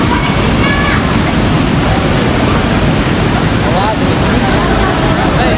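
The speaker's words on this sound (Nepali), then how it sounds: "अघिको झर्नाबाट डाइरेक्ट पानी यहाँ आउँछ" Water pours steadily from a waterfall near Pokhara, a loud, continuous broadband rush with no breaks across the whole stretch.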